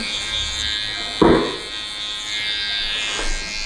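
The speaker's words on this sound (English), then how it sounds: "we'll finish off just by the trimmers along the bottom" Electric hair trimmers buzz close by as they cut along the bottom of a man's side-part haircut, a steady hum with a brief louder burst partway through.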